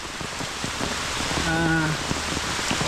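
Heavy monsoon rain pours on a Konkan village, a dense continuous hiss of drops, with a voice briefly heard partway through.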